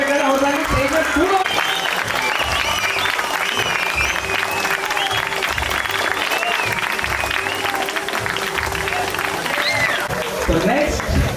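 Steady, dense applause from an audience at a school alumni teacher-felicitation event in Channarayapatna, filling the hall throughout, with a voice talking over the clapping.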